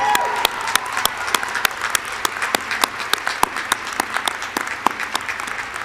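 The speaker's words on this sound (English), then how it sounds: "I want you to give yourselves a round of applause" A law school graduating class at a hooding ceremony applauds itself, a broad crowd of hands clapping steadily with some louder individual claps cutting through, sustained at an even level.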